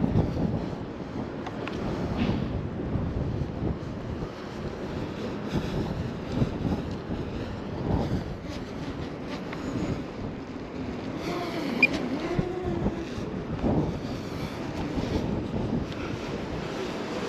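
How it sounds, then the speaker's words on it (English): Gusty wind buffets an outdoor microphone with a continuous low roar that rises and falls for the whole stretch, with no voices. "Oh dear, the wind up there"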